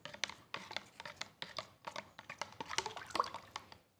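Rock salt stirred into a container of water for plant fertilizer, a quiet run of small clicking, scraping taps as the spoon knocks and grinds against the vessel, fairly close and without talk.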